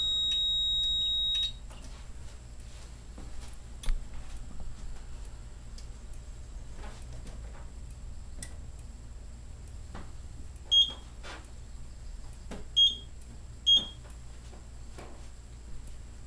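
A building fire alarm test: a 4010 panel's steady alarm tone sounds briefly at the start, then quiet room hum with scattered ticks and a few short high beeps as the 7100 and quick start panels reset.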